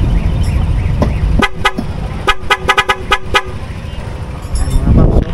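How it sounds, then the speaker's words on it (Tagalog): Loud aftermarket horn fitted to a 2024 Yamaha Nmax V2 scooter blares in a burst of short, rapid toots after a couple of single honks, close and piercing over steady background noise. "Kumala yung 4 na busina natin tsaka mini driving light."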